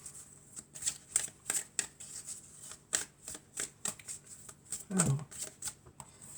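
Oracle cards being shuffled by hand, close and quiet, in a quick run of soft riffling slaps and flicks, with a short vocal murmur near the end.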